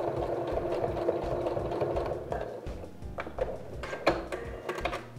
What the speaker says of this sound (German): jetzt vernähen wir die Naht